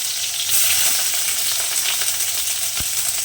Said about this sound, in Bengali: পেঁয়াজ আমার তেলে চলে গেছে এরপর ভালোভাবে নাড়তে হবে